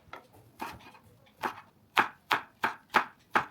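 Leek being chopped with a knife in close, sharp strokes, a few irregular cuts at first, then a quicker steady run of five or six crisp chops.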